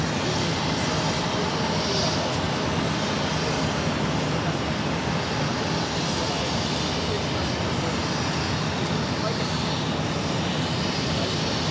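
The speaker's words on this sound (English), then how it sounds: "This is ETA 615 taking off to Rome on the A330 200" Airbus A330-200 airliner taking off from Boston Logan on a flight to Rome, a broad continuous engine roar holding steady throughout, with radio voices talking over it.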